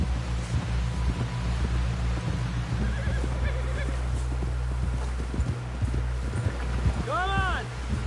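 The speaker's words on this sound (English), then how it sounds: "Someone help John down off this horse" In Red Dead Redemption 2, a horse's hooves clip-clop steadily beneath wind, ending in a loud close neigh near the end.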